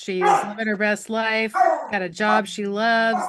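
A dog barks and yips under a woman's clear close speech, with the harmonic barks partly masked by the voice.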